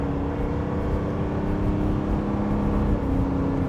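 A 2025 Chevrolet Suburban Z71 diesel SUV accelerating hard, its engine a steady, loud droning rumble with a rising tone held throughout, heard from inside the cabin without talk.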